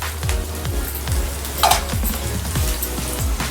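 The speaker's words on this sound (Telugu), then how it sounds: "ఒక 1 కప్ ఆనియన్స్ నూనెలో ఫ్రై చేసుకోవాలి." Onions and green chillies sizzling in frying oil make a close, bright crackle, while a spoon scrapes the pan about twice a second in a regular stirring rhythm.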